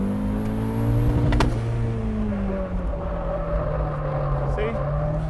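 Turbocharged Mazda Miata drifting on a race track, a loud, steady engine drone with shifting pitch heard from inside the car, a voice speaking over it.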